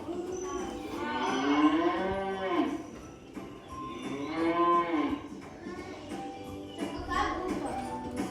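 A cow moos three times in long, drawn-out calls, loud and close, with short pauses between each.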